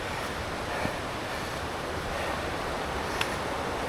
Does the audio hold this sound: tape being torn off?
no